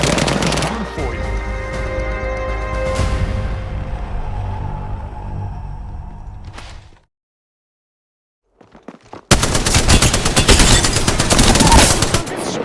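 Apex Legends combat brings loud, close automatic gunfire with heavy sustained bursts, then a short near-silent gap before another dense volley of rapid shots, with game voice lines mixed in.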